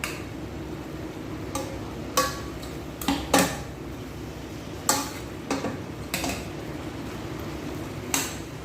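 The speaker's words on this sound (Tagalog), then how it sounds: "Then, haluhaluin natin siya guys." Spatula scraping and tapping in a pan as shrimp sautéed with bottle gourd get stirred, irregular clinks and knocks, close and fairly clear over a steady low kitchen background.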